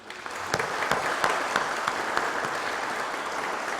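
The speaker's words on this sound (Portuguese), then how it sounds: "E as palmas louvam ao Senhor Jesus." An audience in a legislative assembly chamber applauds at a solemn session honoring a church's 70th anniversary, with dense, steady clapping that carries on evenly throughout.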